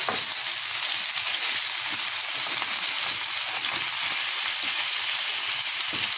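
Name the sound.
minced meat frying in a pan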